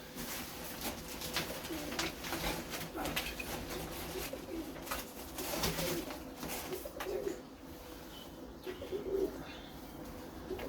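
Pigeons coo softly and repeatedly, low throaty calls over light rustling and occasional chirps, fairly close.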